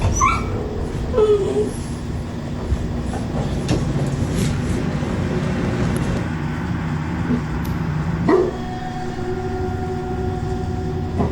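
Family dogs whimper and yip in short high cries over a steady rumbling background like a passing train, the yelps scattered and fairly close with no talk.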